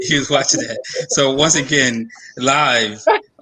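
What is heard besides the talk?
No everyday noises stand out.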